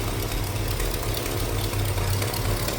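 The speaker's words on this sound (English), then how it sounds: "That number's matching 350. A little low beat idle to it." A 1968 Pontiac Firebird convertible's numbers-matching 350 V8 idles with a low, lumpy beat, a steady close rumble throughout with no talk.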